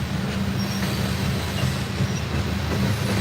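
Freight train with a mid-train DPU rolling past, a continuous low rumble of wheels on rail with faint squeal, steady and close.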